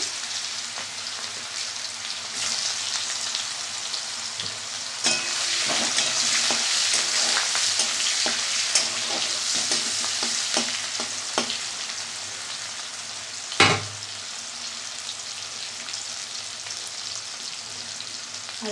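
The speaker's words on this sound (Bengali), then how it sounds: "এর পটল ভাজার তেলের মধ্যে পেঁয়াজ দিয়ে দিলাম পেঁয়াজ কুচি" Chopped onion frying in the oil left from frying pointed gourd, a steady bright sizzle that swells as the onion goes in, with scattered stirring clicks and one sharp knock near the end; no talking.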